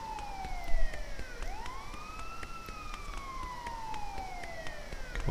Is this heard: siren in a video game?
yes